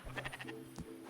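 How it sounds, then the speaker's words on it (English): Sheep in the video game Spiritfarer bleating, a short wavering baa followed by a brief second bleat, faint and close, with a low tonal game background underneath. "Why do we have a sheep up here?"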